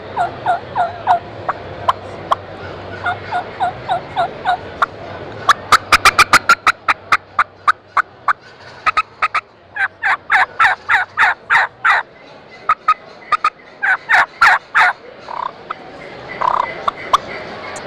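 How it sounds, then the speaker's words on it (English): Turkey hen calls played on WoodHaven Custom Calls Black Death mouth calls (Black Venom and Black Hornet), sharp rhythmic yelps and fast cutting series, loud and close, with no talking. "I'm going to demonstrate the Black Venom and the Black Hornet for you guys."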